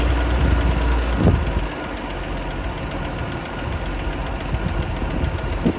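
A Series 3 Land Rover engine idles close by with a steady, low, slightly knocking rumble that runs throughout without any talking.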